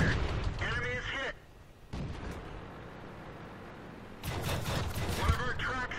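Tank cannon shots in World of Tanks, fired from a Type 95 Ha-Go on a mines map, sound as loud booming blasts with rumbling battle noise and game radio voice lines between them.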